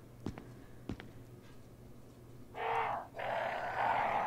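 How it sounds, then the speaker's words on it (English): Crows in the video game Resident Evil HD Remaster: two sharp knocks, then a loud close caw and a longer harsh cawing call over a low hum. "Room, okay, with a crap ton of crows"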